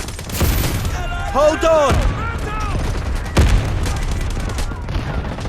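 Sustained gunfire barrage from the Delta Force video game, a dense rumbling fusillade with a few sharper bursts, running continuously under players talking over voice chat.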